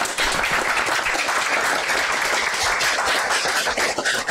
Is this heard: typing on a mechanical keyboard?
no